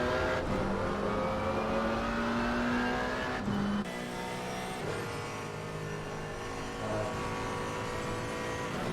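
Race car engines from an Assetto Corsa Competizione British GT4 Series race at Donington Park, including a Porsche, drone and rev continuously, with rising and falling gear pitches and shifts as cars run close together, loud and constant.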